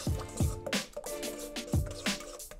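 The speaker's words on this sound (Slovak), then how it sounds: "Do nádoby vylejem 240 ml teplej vody a 60 g čírej želatiny a všetko takto spolu premiešam" Warm water and clear gelatin are stirred together in a container, giving soft, wet, rhythmic sloshing and squishing strokes repeated several times, close and quiet, with no talking.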